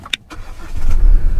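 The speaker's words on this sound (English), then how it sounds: "Start the car." A car engine cranks with a brief whir and catches, then settles into a rising, steady idle that grows louder and fuller near the end.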